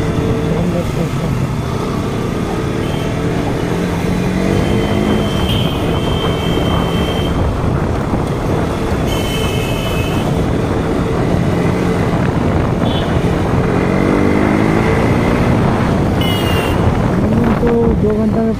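A motorcycle rides along the road, its engine drone mixed with heavy, constant wind buffeting on the microphone throughout, with faint traffic sounds and muffled voices underneath.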